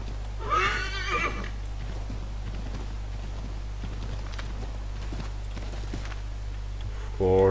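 A horse, referred to as a donkey, in Assassin's Creed 3 whinnies near the start and again at the end, with soft hoof clip-clops and footsteps in between over a steady low hum.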